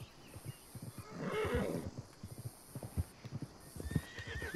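Horse neighing in a video game, a rising whinny near the middle over repeated clip-clop hoofbeats and a faint steady background hum.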